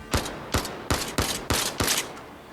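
Six loud, close gunshots in the VR shooter Zero Caliber Reloaded, spaced about a third of a second apart, each a sharp crack with a short decaying tail.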